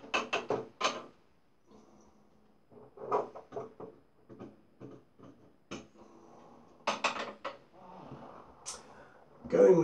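Someone rummages in a cupboard, making scattered knocks, clunks and light clatter in short bursts with quiet gaps between them.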